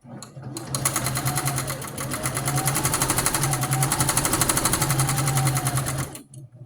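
A sewing machine runs continuously, back stitching a rag quilt. Its loud, rapid mechanical whir starts abruptly and stops near the end.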